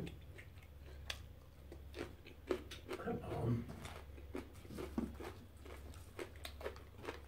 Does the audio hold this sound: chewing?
yes